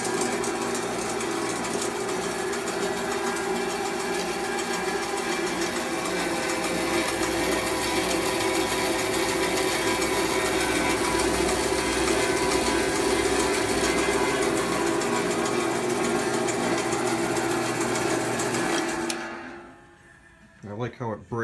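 A restored Delta Homecraft bandsaw, fifty years old or more, runs with a steady, loud mechanical hum and whir for about nineteen seconds, then switches off and quickly winds down to near silence with a few faint knocks.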